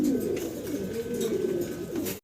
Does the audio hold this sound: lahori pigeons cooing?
yes